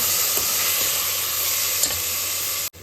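Two chopped tomatoes sauté in oil for beetroot rice, giving a steady, close sizzling hiss with faint stirring, cut off abruptly near the end.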